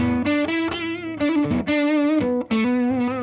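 A Reverend Pete Anderson PA1 electric guitar played through its neck pickup with gain gives thick, mildly distorted sustained notes and chords, several strummed attacks in a row, loud and close with no speech.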